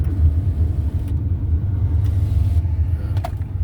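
A car driving along a road on the way to Mission Lakes Boulevard and 8th Street in the desert near Desert Hot Springs, heard from inside as a steady low engine and road rumble with no talk.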